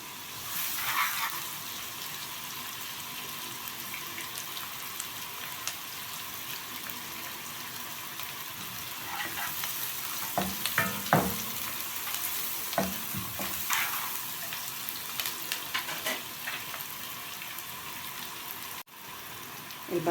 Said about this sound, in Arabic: السمنه هنا سخنت، هننزل معانا ببصلايه متقطعه